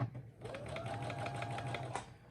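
A Brother SE1900 sewing machine stitching a square with its side sew feature, a continuous close whirring run after a brief pause at the start, steady and moderately loud, alone.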